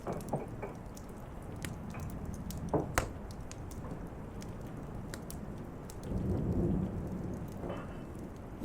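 A steady patter of rain with scattered sharp drips, joined by a low rolling rumble of thunder that swells briefly before fading back into the rain.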